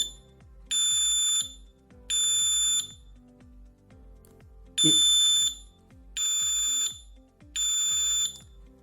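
A BiScreen smoke detector sounds its alarm while being paired, five loud, shrill piercing beeps in an even rhythm, each about a second long with short gaps, close and alone.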